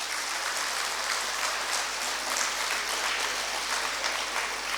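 A school audience at a kids' school annual day claps loudly, a dense, even wash of applause sustained throughout without pause, with no speech over it.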